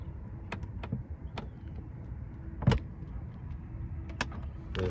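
The soft-closing door of a 2016 Tesla Model X 90D with about 77,000 miles pulls itself shut with a low, steady motorized hum, close by, punctuated by a couple of light clicks and one firmer latching thunk midway.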